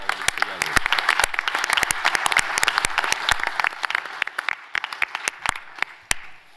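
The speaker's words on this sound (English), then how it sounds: "I would like to applaud" Audience applause fills a conference summary session, dense steady clapping from many people that rises, holds, and thins toward the end with a few last sharp claps.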